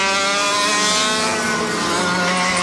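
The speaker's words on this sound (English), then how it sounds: "The TN KF3 spec engine on the side rails." Racing kart with a TN KF3 spec engine mounted on the side rails screams at sustained high revs during a CIK Trophy race in New Zealand, loud and close, with a slight pitch drift and no talk.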